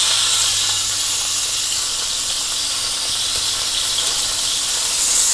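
Beef sears in a hot cast iron pan, a loud, steady high hiss and sizzle running unbroken from start to finish with no voices.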